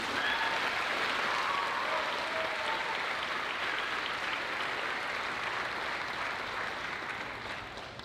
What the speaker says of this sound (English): we want to thank them and give them a round of applause for all the work that they do